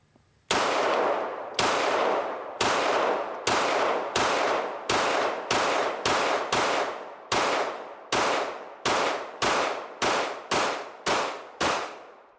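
Rapid string of pistol shots from a Canik TTI and a CZ P-10C, both ported handguns, fired at a range; about sixteen loud, sharp reports in steady rhythm, each with a brief decaying ring.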